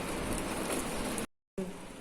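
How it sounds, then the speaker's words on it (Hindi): Heavy rain pours outside a window overlooking a lake, a dense steady wash of noise that drops out briefly and then resumes, with a voice faintly underneath. "बिल्कुल कुछ नज़र नहीं आ रहा, इतनी तेज़ बारिश है।"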